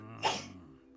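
A single sharp sneeze bursts out near the microphone, a brief explosive puff of breath over a quiet room hum.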